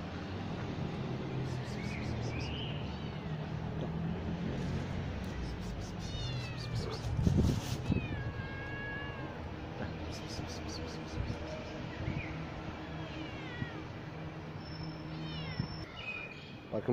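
A mother cat leaving her kittens meows in drawn-out, rising calls and lets out low growls outdoors, several cries scattered across steady background hum.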